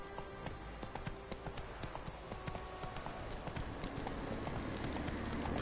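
Hooves of the horse Roach galloping in a PS4 video game, a quick steady clip-clop rhythm of many hoof strikes, with faint game sounds in the background.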